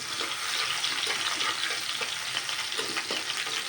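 Garlic frying in hot oil in a pan while cooking pasta, a steady dense sizzle and crackle that runs loud and continuous throughout with no talking.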